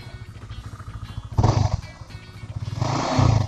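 A 2016 Honda CBR 150R sport motorcycle engine idles with a throbbing low pulse, then revs up twice in loud bursts before settling back.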